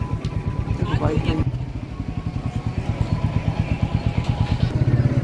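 A motorcycle engine idles close by with a steady, loud, rhythmic thumping, and a brief voice is heard early on, near a temple.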